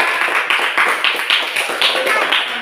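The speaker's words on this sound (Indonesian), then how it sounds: "tepuk tangan dulu buat kelompok" Students in a classroom clap for a group in a loud, regular rhythmic pattern, roughly evenly spaced bursts of many hands striking together in quick succession.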